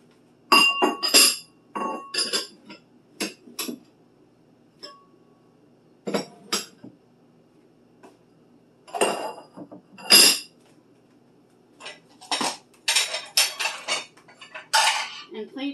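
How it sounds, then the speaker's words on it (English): Ceramic bowls and plates clink and clatter as they are stacked into a kitchen cabinet, bursts of sharp knocks and chinks separated by short quiet pauses, close and fairly loud. "I like to put the bowls underneath on the bottom."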